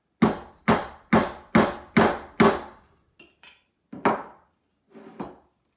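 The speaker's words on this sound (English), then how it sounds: "I'm going to take my hammer and nail" A hammer drives a nail through a soup can lid resting on scrap lumber: six sharp, evenly spaced metallic strikes, then a few lighter taps and knocks, close and clear with no talking.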